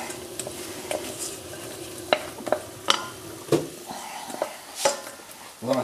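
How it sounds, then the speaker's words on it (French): A spoon stirs a melted sugar mixture for chouchous, the caramelized fairground peanuts, in a pan: scraping, sizzling strokes repeat irregularly at close range, with brief bursts of speech in between. "Tout le sucre a fondu. Tout est bien mélangé."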